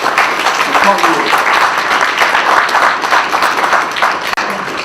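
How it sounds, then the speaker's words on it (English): Dense, steady audience applause from a crowd at a hip hop lecture event at Temple University in Philadelphia, sustained and fairly loud for the whole stretch with no pauses. "So give yourselves a round of applause for even taking the time to come here."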